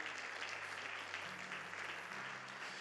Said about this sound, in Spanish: Dale más fuerte ese aplauso al Rey